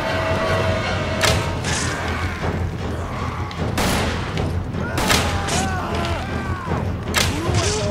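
Gunfire in the video game Resident Evil 5: several sharp, loud shots and bursts at irregular intervals over dense game action, with a voice talking underneath.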